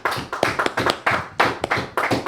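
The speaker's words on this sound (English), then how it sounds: "Let's get a little clap from them lot then." Small group clapping in a podcast studio, a short burst of loose, uneven hand claps lasting about two seconds, close and fairly loud.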